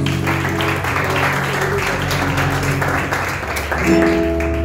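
Church congregation clapping steadily through a service, a dense continuous patter with sustained music tones underneath and a voice talking over it now and then.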